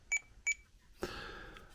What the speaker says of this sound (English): Just beep sounds.